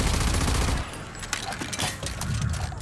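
Dense video-game combat: overlapping automatic gunfire and mortar blasts with ground fire, a continuous loud fusillade that dips briefly before building again, no talk over it.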